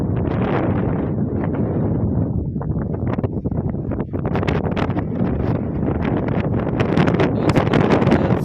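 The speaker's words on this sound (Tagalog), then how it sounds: "Nililipad ka sa hangin." Strong wind in cold mountain weather at Malico roars and buffets the microphone nonstop, a loud, steady rushing gust with no break and no voices.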